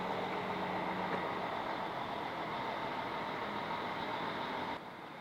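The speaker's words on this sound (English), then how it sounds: "Come on, bus, get out of here." A bus rumbles past at close range, its loud broadband engine and road noise steady for several seconds before dropping off abruptly near the end, with no voices.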